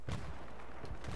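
Grenade blast in Battlefield 3 Rush mode, a single heavy boom at the start rolling into a sustained low rumble, loud and close, with no one speaking.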